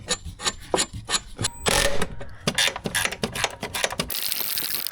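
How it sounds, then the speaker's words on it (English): A ratchet tightens the transfer case mounting bolt on a Range Rover 4.4L SDV8. Its clicking runs in quick, uneven bursts, close and loud, mixed with scraping metal rubs and a steadier grinding whir near the end. "transfer case mounting bolt gets seated first. And torque to 175 Newton meters"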